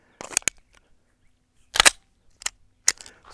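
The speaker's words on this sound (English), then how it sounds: "So shoot some warm-up shots." A Glock pistol fires warm-up shots at a shooting range, a handful of sharp, sudden cracks spaced irregularly with near-silence in between.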